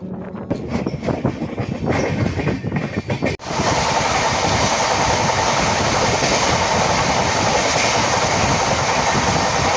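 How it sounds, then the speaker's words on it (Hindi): The Balurghat Intercity Express pulls into Dalkola station in West Bengal. After some brief clatter, a loud, close, continuous roar of rolling wheels and carriages takes over and fills the rest of the clip. "ये शायद बुलूरगढ़ इंटरसिटी एक्सप्रेस है। जैसे ही हमारा दालकोला से डिपार्चर हुआ, वैसे ही यहाँ इसका अराइवल हो रहा है।"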